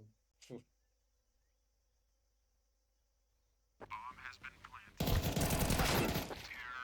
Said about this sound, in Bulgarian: Чувам някаква стрелба и викам...